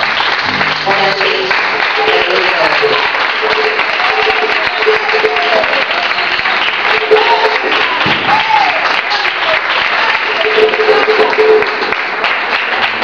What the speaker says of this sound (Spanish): Aplaudan al Rey de Reyes en esta hora.